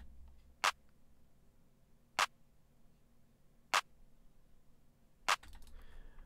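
Four sharp, dry clap hits land at even intervals, each a bright crisp snap over a faint low hum, with a brief noisy tail after the last.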